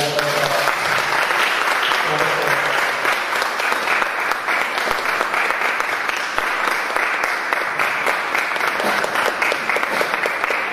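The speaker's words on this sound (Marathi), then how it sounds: "सर्वांनी टाळ्या वाजवल्या." Dense, sustained applause from an audience at the launch of a book on Nagarjuna's Mulamadhyamakakarika, many hands clapping steadily and fairly close for the whole stretch without letting up.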